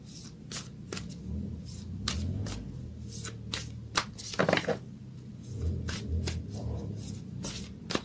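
Moonology oracle cards being shuffled by hand, a steady run of crisp riffling flicks and soft slaps at close range, with no talking.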